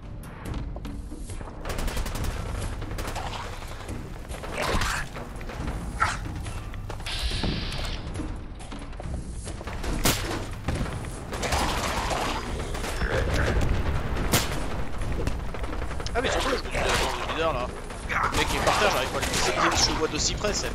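A .44 pistol fires repeatedly in Fallout 4 among loud crackling gunfire, booms and mechanical clatter, with someone talking in French over much of it.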